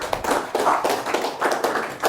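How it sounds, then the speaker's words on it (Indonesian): A class claps for a student, Faras, during a teaching session: a short burst of scattered, uneven handclaps from a small group, fairly close, with no talking. "Ya, tepuk tangan untuk Faras."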